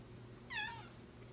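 A pet cat gives a single short, clear meow, close and fairly soft against a quiet room hum.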